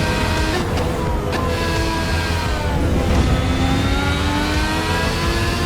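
A Ferrari engine roars and climbs steadily in pitch as it accelerates around the Nordschleife in a racing video game, loud and continuous with no voices.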